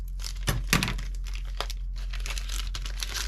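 The corner of a plastic bag is cut, making crinkling and rustling plastic sounds with a few sharper crackling snips up close.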